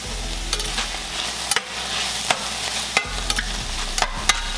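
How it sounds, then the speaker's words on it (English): A pulled pork vegetable stir-fry sizzles steadily in coconut oil in a pan, with a constant close frying hiss broken by repeated sharp scrapes and clacks of stirring. "I'll give you guys a little look-see at our pulled pork vegetable stir-fry mix here."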